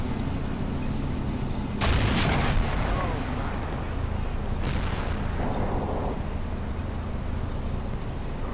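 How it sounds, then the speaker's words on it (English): Artillery shells land in Men of War: Assault Squad, a World War II strategy game set during the 1941 German invasion of the USSR. Two sharp, loud blasts, the first rumbling on, rise above a steady background of battle noise. "Okay, how'd that artillery do?"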